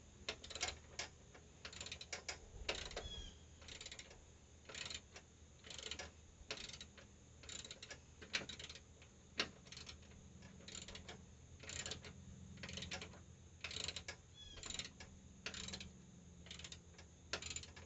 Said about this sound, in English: I could be using my battery-powered ratchet gun to do this, but I'd rather just do it by hand